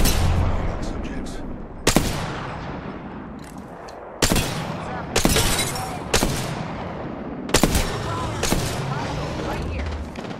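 Gunfire in the video game Apex Legends, several loud, sharp shots spaced a second or two apart over a rumbling battle background, with faint voices now and then.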